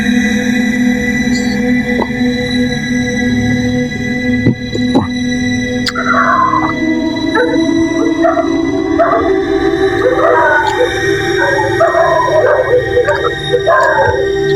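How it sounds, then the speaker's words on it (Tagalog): A dog howls near an abandoned church cemetery in Tayabas, Quezon Province, its long wavering cries rising and falling over a steady electrical hum, moderately close and fairly loud. "Yung aso. Alulong na."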